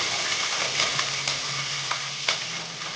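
Three green chillies fry in hot oil, a steady close sizzle and crackle with a few soft spatula taps, heard alone with no talk.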